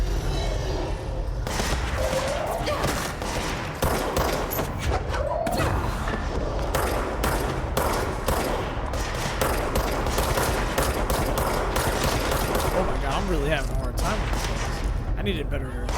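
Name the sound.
gunfire in SCP FPS video game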